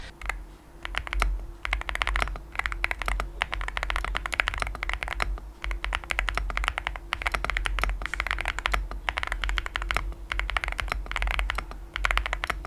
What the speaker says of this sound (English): It's really like has ASMR kind of like typing sounds when you type on it.